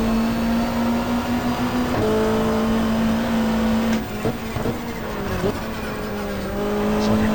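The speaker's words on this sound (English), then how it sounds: "It's like a clump of cars going down the back straight" Super touring race cars from the 1995 Australian championship at Mallala thunder down the back straight as a close pack, a loud sustained engine drone with pitch shifts as cars pass and change gear.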